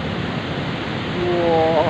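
Big ocean waves at Karapyak beach in Pangandaran, West Java, produce a loud, continuous roar of rushing surf that swells slightly toward the end, with a brief voice rising faintly over it.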